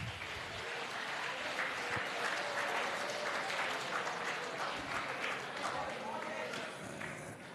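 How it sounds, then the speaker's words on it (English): A college audience at a Google Cloud GenAI launch event at VVIT gives a steady round of applause, dense clapping continuing throughout with some voices mixed in underneath. "Can you give a round of applause to them?"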